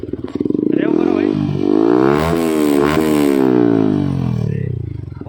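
A Yamaha R15 V3 motorcycle fitted with an Akrapovic exhaust, DB killer removed, is revved twice, its raw, loud engine note climbing and falling in long sweeps close by.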